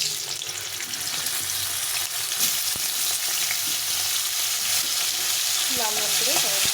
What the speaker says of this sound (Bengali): এখন প্রথমে আমি করলাটা একটু ভেজে নেব।